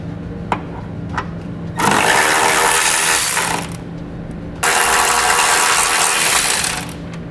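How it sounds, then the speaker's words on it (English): Ratchet on an 18mm socket backing out tow hook bolts from the frame of a 2015 Nissan Rogue, heard as two long bursts of loud, rapid metallic clicking separated by a short pause, with no talk. "So I'm going to take an 18mm socket and pull those bolts out."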